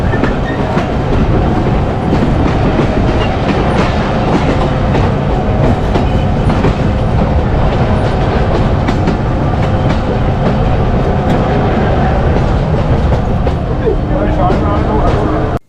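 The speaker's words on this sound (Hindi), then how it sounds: "रावी एक्सप्रेस लाहौर और Shorkot cantt junction railway station के दरमियान चलने वाली एक पैसेंजर ट्रेन है" Ravi Express passenger train running on rails between Lahore and Shorkot, a loud continuous rumble with rhythmic clickety-clack of wheels over rail joints, heard close from on board without pause.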